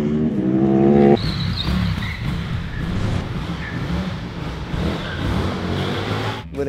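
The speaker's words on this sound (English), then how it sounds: "Let's race these hand-built motorcycles." Hand-built 2024 Indian FTR motorcycles race by, an engine note rising at first, then a steady blurred roar of several bikes at speed with a sharp cutoff at the end.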